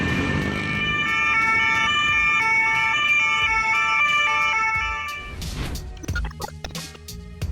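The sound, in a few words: ambulance siren in traffic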